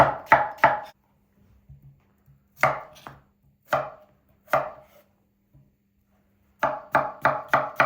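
Onions being cut into cubes on a board: sharp knife chops in quick bursts of three to five, separated by short pauses, close and loud with no voices.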